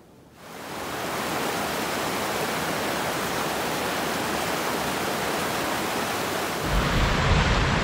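Water in a large creek near Ross Lake in the North Cascades rushes steadily and loudly, a constant broadband roar that swells slightly toward the end.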